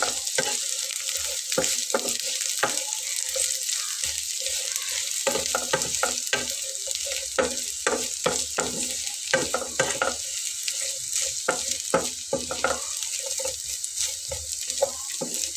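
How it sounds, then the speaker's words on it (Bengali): Bitter gourd fries in mustard oil in a pan with no water added. Repeated scraping strokes of stirring break in over a steady, close sizzle, with no talk. "উস্তাটা একটু নেড়ে চেড়ে ভেজে নেব"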